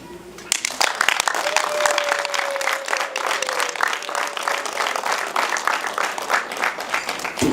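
Wedding guests burst into sustained applause, loud, dense clapping that continues for several seconds with crowd murmur beneath.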